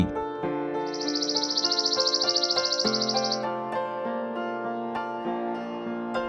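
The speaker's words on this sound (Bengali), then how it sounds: "চড়ুই" A sparrow chirps in a rapid, bright trill for a couple of seconds over steady children's music in a Bangla alphabet song.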